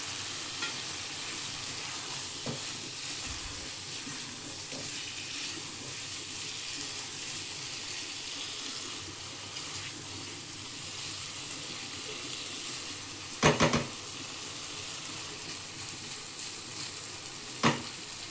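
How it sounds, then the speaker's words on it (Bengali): Eggs stir-fried in oil-releasing masala in a pan give a steady close sizzle and hiss, with a couple of sharp scraping knocks from the stirring spoon near the end. "এর মধ্যে আমি ডিমগুলো দিয়ে ভালোভাবে কষাবো 2 মিনিট।"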